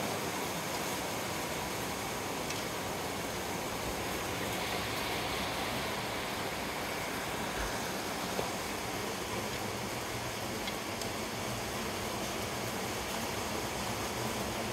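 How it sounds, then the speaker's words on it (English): Rain falls outdoors beside a Big Green Egg grill where jambalaya is cooking, a constant dense hiss with no breaks, moderately loud and steady with no voices. "Sorry about the noise, it's raining out here."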